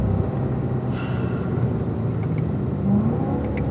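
A car on a racetrack at Spring Mountain gives a steady engine drone that rises slightly as throttle comes on, heard from the cabin with faint tire and wind noise and no talking.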